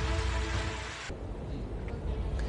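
Steady rain falling in Nashik: a dense, continuous hiss of rainfall that drops abruptly to a softer, thinner patter partway through, with faint scattered drips after.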